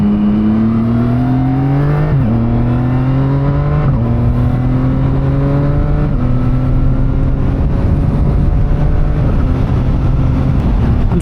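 A CFMOTO 675SS motorcycle, still on break-in miles, accelerates hard through several quick-shifter upshifts. Each gear climbs in pitch and then drops at a crisp shift, and the engine sounds close and loud throughout with no talk.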